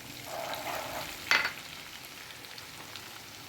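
Chili powder sizzling briefly in hot oil for mango pickle, a faint soft hiss with one sharp clink midway, quiet and close.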